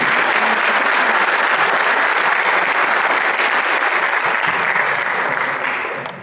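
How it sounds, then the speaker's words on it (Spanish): A crowd applauds loudly, dense clapping that holds steady for several seconds and then begins to fade at the end. "Por aquí me pido un fuerte aplauso."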